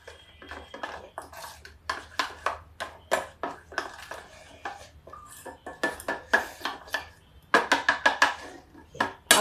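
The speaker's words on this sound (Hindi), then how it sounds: "गांठें नहीं रहे, इसको खूब मिक्स कर दीजिए।" A spoon or whisk clatters repeatedly against a bowl while pakora batter is mixed smooth, a steady run of bright, close clinks and scrapes with no talking.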